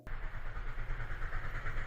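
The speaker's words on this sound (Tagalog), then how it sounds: "tunog ng rumaragas ang tren" A train rumbles steadily along the tracks, a continuous heavy roar with a rhythmic low clatter, close and loud throughout.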